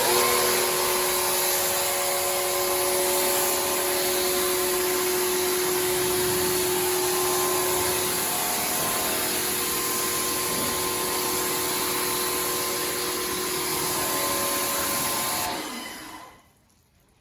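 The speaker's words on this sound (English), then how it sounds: "Right, so we've just power washed the whole car off" Pressure washer spraying water over a car during a detailing job, a loud, close, continuous hiss and motor drone lasting about fifteen seconds before cutting off abruptly, with no talking.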